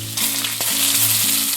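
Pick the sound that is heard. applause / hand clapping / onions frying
onions frying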